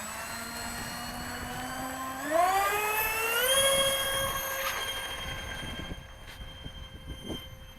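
An RC Executive Learjet model on its maiden flight, its engine whine heard from a distance, fairly faint and steady, then rising sharply in pitch as it spools up before settling into a high, sustained tone.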